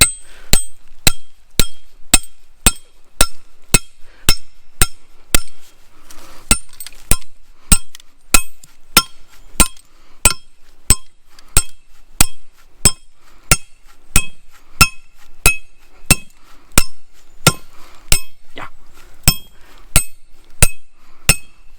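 A hammer strikes a metal driver to sink a trap anchor into the ground, ringing out as a long, steady series of sharp metallic clanks about one per second, close and loud, with a short break early on.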